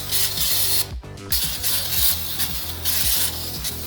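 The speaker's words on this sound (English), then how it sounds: "Let's go ahead and spray this guy down real quick." Cleaner is sprayed onto car parts during a Mazda electric power steering pump swap, with repeated hissing bursts and short pauses between them, heard up close and fairly loud.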